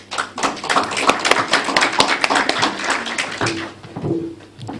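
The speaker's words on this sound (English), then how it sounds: "Round of applause for, please." An audience applauds as a motivational speaker is introduced, with close, distinct hand claps in an uneven patter that swells and then eases off, a few claps standing out near the end.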